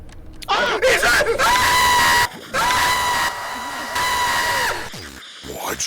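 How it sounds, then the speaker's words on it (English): A man in the anime Dragon Ball lets out a long, loud, sustained scream that wavers and swells, broken by short pauses and followed by strained groaning cries. "And this manly scream causes an entire portal to open up to the overworld."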